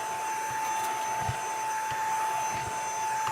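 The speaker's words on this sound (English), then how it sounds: "Hoover don't make a noise so much." A Dyson vacuum cleaner runs steadily and fairly quietly, a continuous smooth whirring hum with a high tonal whine, broken by a few faint knocks and bumps.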